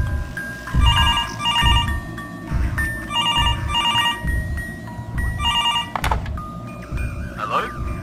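A telephone rings repeatedly in the Mr Hopp's Playhouse horror game: bright, evenly paced double-burst rings over a busy rumbling background, with a person talking throughout.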